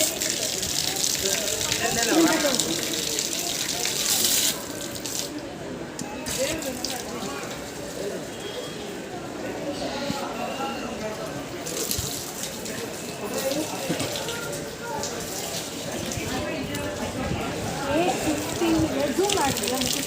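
Water from a tap gushes steadily at a foot-washing spot, a moderate continuous splash running throughout while people talk nearby.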